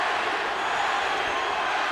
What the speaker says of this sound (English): Filipino crowd chanting for their man, hoping for a dramatic last-round knockout